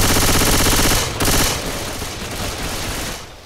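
Gunfire in the zombie shooter Left 4 Dead, a dense rapid stream of loud shots filling the first second, then a sharp burst and a trailing, rumbling wash of continued firing.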